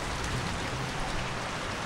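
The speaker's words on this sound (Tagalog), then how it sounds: "Habang malakas yung ulan." Heavy rain falls steadily on a trail in Aurora Province, Philippines, as a dense, even hiss of drops with no pauses and no voices.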